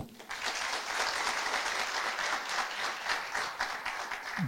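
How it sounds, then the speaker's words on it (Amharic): Seminar audience applauding in a hall, a sustained wash of many hands clapping at moderate distance, steady throughout with no voices standing out. "እባካችሁ አጨብጭቡ"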